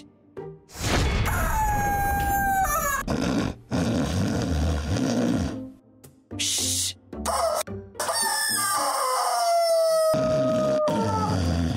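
A dog howls in drawn-out, wavering rising and falling tones, repeated several times over a loud, busy animated game scene with heavy background noise and abrupt cuts.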